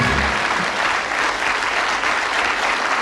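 A television game-show studio audience gives loud, dense, continuous applause to departing Bullseye contestants, close and steady throughout the short burst.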